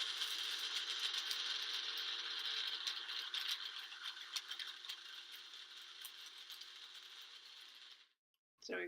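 An electric grinder whirs steadily while grinding dried ashwagandha root, a loud, even mechanical rattle that fades slightly before cutting off abruptly near the end.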